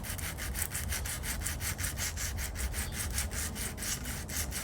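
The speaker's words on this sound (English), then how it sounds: "I will use some 320 grit in the form of this like scrubbing pad" A Saab 9-3 alloy wheel with curb rash is scrubbed with a 320 grit scrubbing pad, making rapid, rhythmic back-and-forth rasping strokes that run continuously at close range with no talking.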